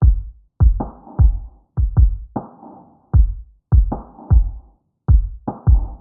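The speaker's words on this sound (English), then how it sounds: "these are just some programmed kicks and snares that are filtered down" Muffled, low-passed programmed drums: deep kicks and softer snares in a steady, laid-back groove, dull and bass-heavy with no bright top end.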